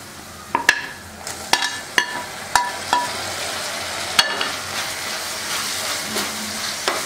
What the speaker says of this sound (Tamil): இஞ்சி பூண்டு பேஸ்ட் வெங்காயம் எல்லாம் நல்லா வதங்கிடுச்சு இப்போ நம்ம தக்காளி போட்டுக்கலாம்